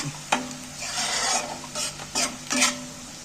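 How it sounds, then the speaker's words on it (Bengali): Food frying in oil in a pan is stirred with a utensil, giving a near, sizzling hiss broken by several sharp scraping strokes and clinks against the pan. "তেলের মধ্যে নাড়াচাড়া করতে করতে অনেকটাই কিন্তু ভাজা ভাজা হয়ে গেছে"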